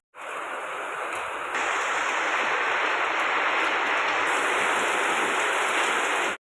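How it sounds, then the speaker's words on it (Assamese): Heavy rain pours down steadily at night, a dense, continuous hiss of water drumming on surfaces that swells slightly louder after the first moment and holds without pause. "একদম বৰষুণ দিয়ে আছে"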